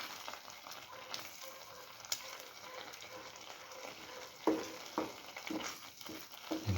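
Eggs are slowly scrambled in a hot pan, a soft steady frying sizzle broken by stirring scrapes and taps that grow more frequent toward the end.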